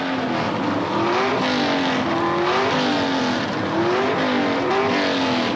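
Drag-racing cars at the 1979 NHRA Gatornationals, a Hemi-powered Plymouth Volare and a small-block Chevrolet, launching together in a constant loud roar of engines with rising pitch sweeps, tyre noise and crowd-like wash, distant and unbroken.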